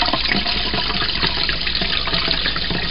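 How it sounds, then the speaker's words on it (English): Hot water siphons from a moonshine still's cooling coil into a sink, a loud, continuous rushing splash of running water close by with no break. "just simply pull off the hose and the water will siphon back into the sink"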